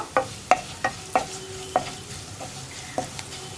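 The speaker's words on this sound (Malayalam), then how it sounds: "പൊടികളൊന്ന് കുക്കായി വരുന്നത് വരെ ഒന്ന് ഇളക്കി കൊടുക്കുക" A spoon stirring spice powders in hot oil for egg korma, sharp scraping taps against the pan at an irregular pace over a low, quiet sizzle, close up with no talking.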